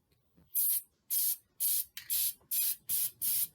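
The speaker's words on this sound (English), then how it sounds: "spray paint, go high," A can of spray paint hisses over a sheet of paper laid with leaves, in seven short, sharp, evenly spaced bursts, close and alone.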